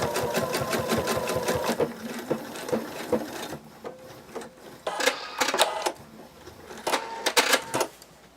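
A sewing machine stitches back over a seam on a small dragon plush wing, running in quick rattling bursts separated by short pauses, loud and close.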